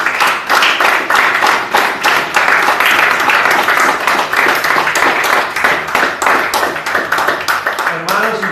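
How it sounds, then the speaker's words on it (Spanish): A church congregation applauds the Lord at a Spanish-language service, a loud sustained wash of many hands clapping that holds steady for several seconds, with voices and cheers mixed in. "Un aplauso para el Señor."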